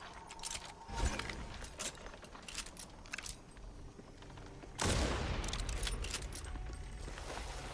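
Sniper rifle fire in the Redfall video game, with a sharp loud report near the one-second mark and a heavy blast around five seconds, amid clicking mechanical handling sounds and busy game ambience.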